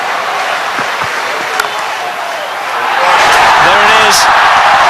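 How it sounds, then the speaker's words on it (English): A cricket crowd at a one-day international erupting as Herschel Gibbs reaches his hundred, a broad roar of cheering and applause that swells and grows louder partway through, with a commentator's voice over it. "if he does go to 100, this crowd will erupt"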